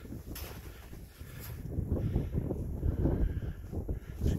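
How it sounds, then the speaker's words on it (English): Wind gusts across an exposed hilltop winter camp, a rough, buffeting roar on the microphone that swells and eases in surges, strengthening toward the end, with no voices. "It's windy today."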